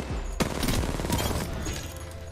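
Gunfire in Apex Legends, a busy fusillade of distant and mid-range shots crackling through a short stretch of battle, one sharp crack standing out near the start.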